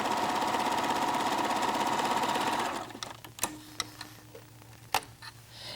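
A White Model 9800 sewing machine hemming fabric, running in a fast, steady whirring chatter for about three seconds, then stopping, followed by a low hum and a few isolated clicks and knocks close by.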